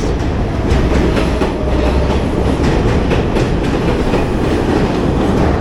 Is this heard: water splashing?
no